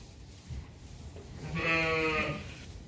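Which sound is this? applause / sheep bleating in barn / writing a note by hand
sheep bleating in barn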